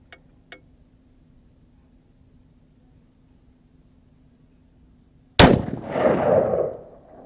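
A single loud, close rifle shot cracks after several quiet seconds at a shooting range zero check, followed by a rumbling echo that fades over about two seconds; a couple of faint clicks come earlier.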